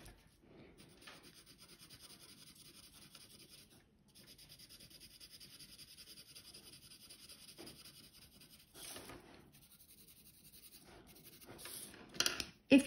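Steady close scrubbing of an eraser or cloth rubbing out a drawn design, continuous rasping strokes with brief pauses and a couple of louder scuffs at the end, no talking.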